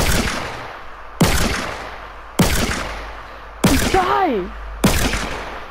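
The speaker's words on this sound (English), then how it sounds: "Alex, stop shooting me!" Video game gunfire cracks out as five loud single shots at a steady, evenly spaced rhythm, each with a brief ringing tail, and a voice shouts briefly between them.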